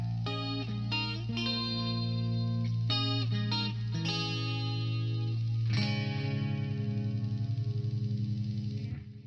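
Clean electric guitar with split-coil humbucker pickups in the center position, run through a chorus effect for a mid-80s crime drama tone, playing sustained chords and notes alone with a steady low background hum underneath.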